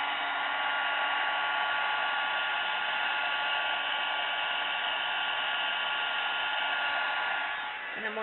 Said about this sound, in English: So I'm just going to pop the heat tool on to heat up for a second.